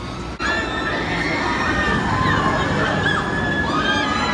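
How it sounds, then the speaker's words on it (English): Riders on the Max Air amusement park ride scream together in a dense, continuous roar of many voices, loud and sustained, with ride noise underneath. "Definitely a lot more screaming than I thought."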